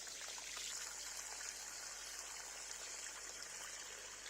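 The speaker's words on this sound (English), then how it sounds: "now the water has started coming out from the drainage hole" Water trickling out of the drainage hole of a plant pot after watering a freshly repotted Coleus amboinicus: a faint, steady, soft dribble that runs continuously, with no one talking.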